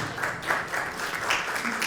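Short burst of audience applause at an academic round-table on teaching, research and extension, with soft clapping under murmured voices and light cheering.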